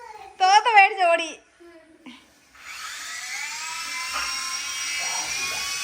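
A child's toy helicopter spins up after a brief burst of a young child's babbling, then holds a steady, close, whining whir of its small motor and rotor until the end.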